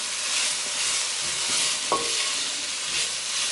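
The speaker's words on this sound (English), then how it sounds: "just give it a mix so that all those veggies can get coated with that excess marinade as well" Marinated jerk chicken pieces and vegetables stirred in a hot pan, a steady sizzle running throughout with scraping and stirring movements and a brief clink near the middle.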